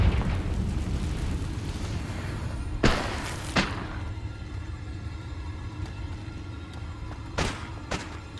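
Confringo fire-blast spells from Hogwarts Legacy burst in sharp, loud bangs, two close together and then another pair a few seconds later, over a low rumbling game backdrop with no talk.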